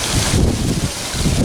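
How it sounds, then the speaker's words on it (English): Steady wind gusting across a microphone outdoors by a garden pond with goldfish and koi, a continuous low rumbling buffet that swells and dips throughout without pause. "And it's kind of windy."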